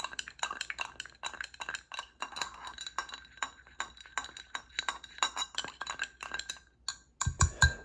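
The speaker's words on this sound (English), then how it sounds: "I'm going to add ice. I'll add a nice big rock. I'm going to stir it" A big rock of ice drops into a drink in a glass and gets stirred, giving a quick run of bright clinks and taps against the glass, close and crisp, ending in a louder rattle.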